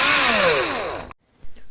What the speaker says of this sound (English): I have decided to drill through the body